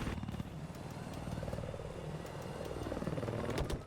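An attack helicopter in the Battlefield 4 video game gives a continuous rotor drone with chopping pulses under dense battle noise, loud and sustained throughout.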